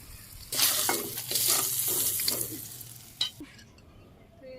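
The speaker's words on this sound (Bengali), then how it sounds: "তেলের মধ্যে আমি তেল দিয়ে দিলাম পুরনি জিরে আর শুকনো লঙ্কা" Cumin seeds and dried red chilies hit hot oil in a rural Bangladeshi kitchen, setting off a loud, sudden, crackling sizzle with stirring clatter that fades after about three seconds, with no voices.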